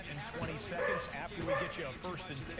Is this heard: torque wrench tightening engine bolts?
no